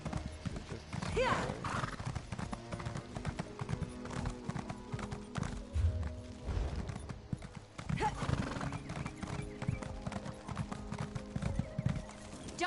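Horse hooves clip-clop steadily in a fantasy role-playing video game, a continuous close rhythmic trot with occasional whinnies, under players chatting.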